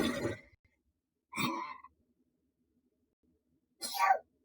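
Three short bursts a second or two apart, the last one sharp and explosive like a sneeze, separated by silence.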